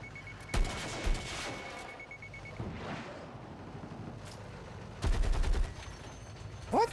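Gunfire in the video game Battlefield 6: bursts of automatic shots near 0.5 s and 1 s, then a denser volley around 5–5.6 s, over steady low game rumble.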